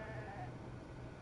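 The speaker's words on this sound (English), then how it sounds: "The sheep need water." A sheep bleats in the PS4 video game Beyond Two Souls, a wavering, quiet bleat set against a soft, steady outdoor background.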